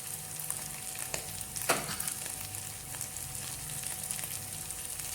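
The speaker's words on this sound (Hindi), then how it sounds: "हमारी आलू की टिक्की दोनों तरफ से फ्राई हो गई है" Potato tikki sizzles steadily in a hot pan, a close, continuous crackling hiss with a couple of brief louder spatters or scrapes, no voices.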